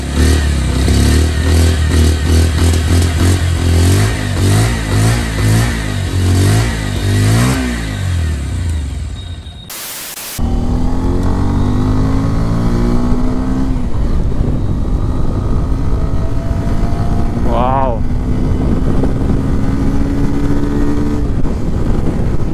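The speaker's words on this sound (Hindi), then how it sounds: "अब इसका एग्जॉस्ट नोट सुनते हैं" A Bajaj Pulsar 125 motorcycle revs hard and loud up close, its exhaust note climbing and falling through repeated throttle blips, then a sharp break and a steady high engine drone as it pulls away.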